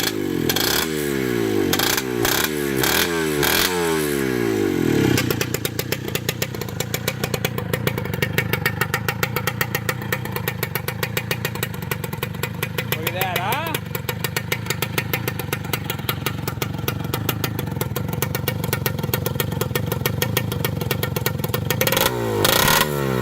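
A motorcycle engine running with no silencer, jetted for the stock exhaust, blats loud and raw at close range, opening with a few sharp revs before settling into a steady, harsh, rattling drone that holds for about twenty seconds.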